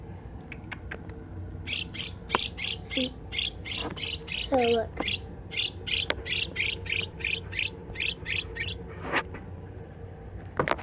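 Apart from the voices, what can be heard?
small pet bird squawking while being fed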